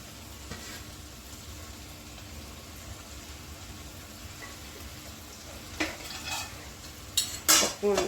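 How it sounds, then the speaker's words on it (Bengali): Fish chorchori with tamarind water and coriander leaves is stirred in a pan over a low steady sizzle, with a few scraping utensil strokes toward the end, close up and without talk. "নাড়িয়ে দিই, তাহলে তেঁতুলের যে জলটা সেটা নিচে একটু যাবে।"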